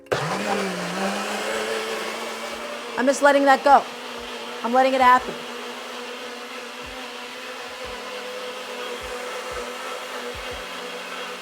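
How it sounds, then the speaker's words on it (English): A countertop blender whirs steadily, blending cilantro crema in a home kitchen, its motor a constant loud drone while a person talks briefly over it midway. "I'm just gonna throw that into the blender"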